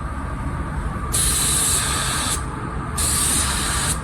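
A Porphis PRD 815 airless paint sprayer spraying: two loud, sharp hissing bursts, each just over a second long and separated by a brief pause, over a constant motor hum.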